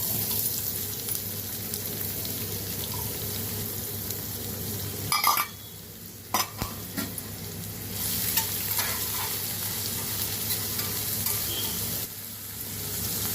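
Onion pieces sizzle steadily with mustard seeds in a hot pan while cooking a cucumber masala curry, with brief clatters of stirring partway through and no talking.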